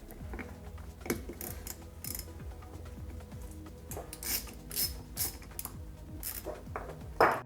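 Torx security bit turning ignition cover bolts out on a 2006-2007 GSXR 600/750 motorcycle, with quick repeated ratcheting clicks and metallic rattles, close and uneven, a few sharper taps near the end.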